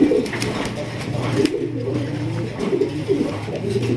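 Pigeons, including Giribaz birds kept for sale, coo in a low, continuous, rolling chorus close by, with a few higher flutters and scratches over the top.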